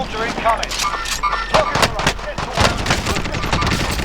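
Rapid assault rifle gunfire in the Warzone battle royale game, dense bursts of sharp shots crackling steadily and loudly across the clip amid game effects.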